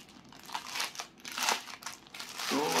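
Plastic wrapping around a Portronics Bubble Pro wireless keyboard with touch pad crinkles continuously as it is pulled out of the pack, a close, steady rustling with no speech.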